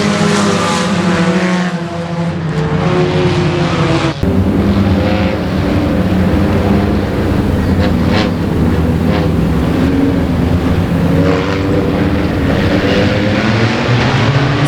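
Four-cylinder race cars roar around a track during a Louisiana state championship night main event, a loud, continuous blend of several engines droning and overlapping without a break.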